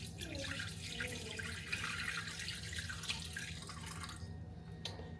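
Water runs and drips into a container while measuring it for pizza dough, a faint steady trickling and splashing close by, with no talking.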